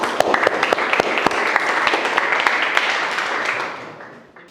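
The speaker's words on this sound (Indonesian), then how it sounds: "Sekali lagi aplaus untuk kelompok kita masing-masing" Classroom applause for student groups during a fiqh lesson, a steady wash of many hands clapping at fairly close range that holds for several seconds and then thins out.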